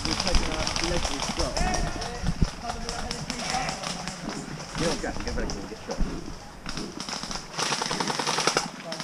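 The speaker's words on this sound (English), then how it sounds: "No, I'm shooting him in his belly." Airsoft gunfire during an outdoor woodland skirmish, rapid bursts of sharp tapping shots in repeated strings, with players talking and shouting throughout.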